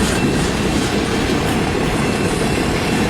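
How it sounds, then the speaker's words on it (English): Long CN freight train rolling past at close range in Richmond, Michigan, a loud steady rumble of wheels on rails with faint clickety-clack and occasional squeal, continuous throughout. "Wow, 2 hours later, that's a long train."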